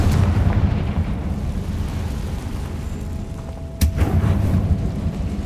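Confringo fire-blast spell going off in Hogwarts Legacy, a loud continuous rumbling roar with a sharp booming impact near the end, no talking.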